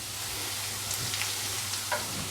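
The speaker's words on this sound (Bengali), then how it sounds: "তাতে আমার গাজর, ক্যাপসিকাম আর কাঁচা লঙ্কা এই দিয়ে দিলাম।" Carrot, capsicum and green chili fry in a tablespoon of oil with salt, giving a soft, even sizzle with faint stirring touches, heard up close and without speech.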